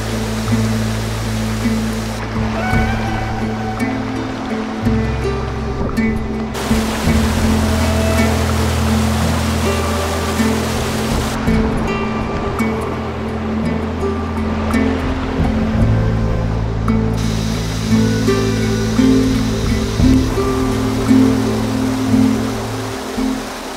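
Constant rushing water of a creek in Australian rainforest, a dense, steady broadband roar close by with low tonal hum layered underneath.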